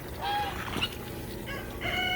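Turkeys gathered at water buckets, giving short high-pitched calls and chirps over a low background rumble, several brief calls close by with no talk.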